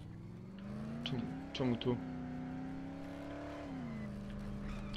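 Car driving in the zombie survival video game Dead Island, a steady engine drone held at an even pitch throughout, with someone talking over it.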